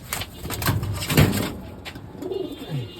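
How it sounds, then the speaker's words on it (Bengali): Racing pigeons coo in low, soft repeated bursts at close range, with a gentle rustle of birds moving nearby and no talking over them. "কবুতরগুলো খুবই সুন্দর মাশাআল্লাহ কবুতর"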